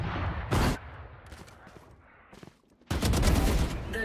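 Valorant gunfire comes as a loud short burst near the start and then a denser sustained volley toward the end, with quieter scattered shots between them.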